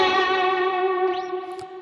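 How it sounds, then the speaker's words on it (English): An electric guitar played through a Line 6 Helix patch with dual delay and a touch of ambient reverb holds a single bright sustained note that rings out smoothly, with a faint echoing tail behind it. "very, very small amount of this ambient reverb. I've got the decay set to 2 just to help out that dual delay a little bit"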